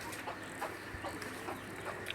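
Native village chickens give soft, scattered clucks at a moderate distance over a steady outdoor background hiss, with no talking.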